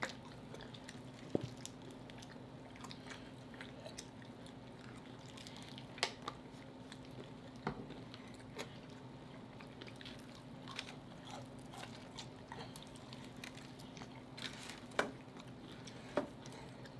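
Someone chews crunchy lemon pepper fried chicken close to the mic, with soft irregular crunches and wet bites scattered over a quiet background.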